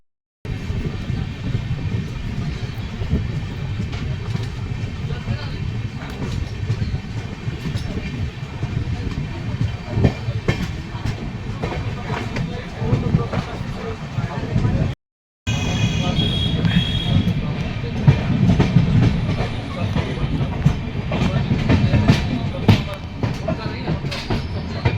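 Amritsar to Howrah express train running at speed on the run in toward Howrah, heard from inside as a loud continuous rumble with rhythmic wheel clatter, a brief cut partway through, and talk over it.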